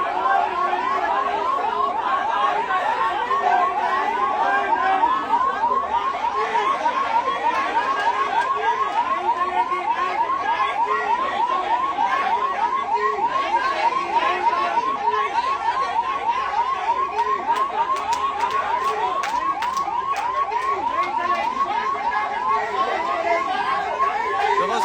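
A vehicle siren wails in a fast, repeating up-and-down cycle, loud and close, under a crowd of agitated voices shouting and talking at a protest outside a hospital.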